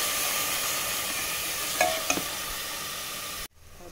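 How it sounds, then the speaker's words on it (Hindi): Tomatoes fry with onions and oil in a pan, a steady close sizzle with a couple of stirring scrapes midway, then the sound cuts off abruptly near the end. "तो अब डाल देते हैं टमाटर, इनको भी पका लेते हैं।"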